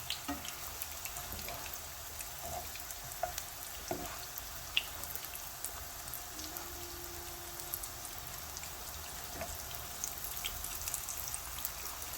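Breaded chicken cutlets shallow-frying golden brown in a pan: a continuous soft, rain-like crackle with scattered tiny pops, steady and fairly quiet throughout.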